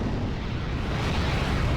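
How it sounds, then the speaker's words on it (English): A 203mm naval artillery strike in the video game Steel Division Normandy 44 makes a steady, heavy low rumble of explosions that carries through the whole short stretch, with no talk over it. "that can call in 203mm guns, or 8-inch guns,"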